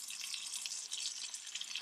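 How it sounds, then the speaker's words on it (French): Water running out of a pipe at a trench dug for a home renovation, a steady close hiss of flow with no break and no voices. "Il y a quand même de l'eau."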